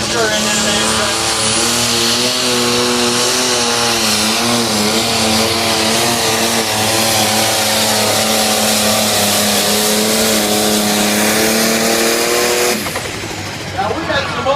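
Old John Deere diesel tractors in a track pulling or racing event at St. Michael, Minnesota, give a loud, steady, deep harmonic engine drone throughout, briefly easing near the end, with a commentator talking over it.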